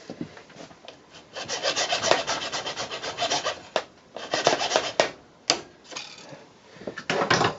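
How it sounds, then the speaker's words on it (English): File worked through a plastic clamp on a carbon part, making close, gritty rasping strokes in uneven bursts separated by brief pauses, with no talking. "when you think you're nearly through, you can take your screwdriver."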